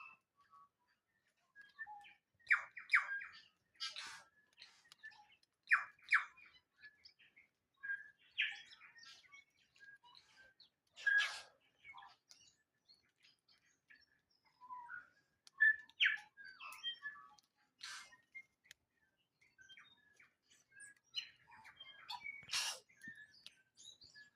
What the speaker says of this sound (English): this bird that you can hear, it's called a tui